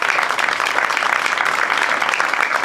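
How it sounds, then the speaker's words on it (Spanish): An audience applauds at a book presentation for author María Teresa Andruetto: loud, sustained clapping from a room full of people, even and unbroken, with no voices over it. "quiero comenzar dándole un fuerte aplauso"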